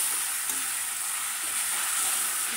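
Beef mince with tomato paste fries in a karahi, giving a continuous, even sizzle close by with no pauses or voices.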